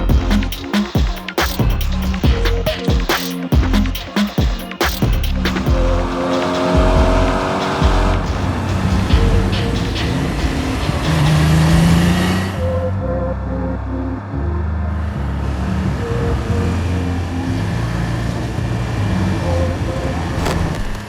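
Porsche 911 Turbo S sports car of the 992.2 generation, rated at 700 bhp, driving with a loud, sustained engine roar that rises and shifts through gear changes, with some tire noise and no voices.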